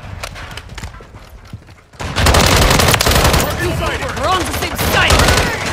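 Call of Duty: Modern Warfare 3 gunfire opens with scattered shots under a brief spoken line, then bursts into loud, sustained rapid fire with overlapping mechanical clatter from about two seconds on.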